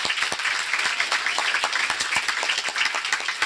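Audience applause at a formal ceremony: dense, continuous clapping from many hands, steady and fairly close throughout.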